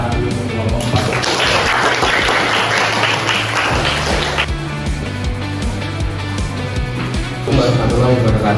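Classroom group applause for a student discussion group at a school guidance session, scattered clapping mixed with loud room noise, music-like tones and chatter, busiest in the first seconds and then thinning out.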